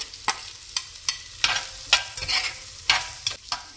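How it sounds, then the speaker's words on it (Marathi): Cauliflower and carrots are stir-fried in a pan with ginger-garlic paste, with a steady close sizzle. A spatula scrapes and clinks against the pan in a quick, regular rhythm, with no talk. "आता मी याच्यामध्ये फ्लावर आणि गाजर पण टाकून घेते।"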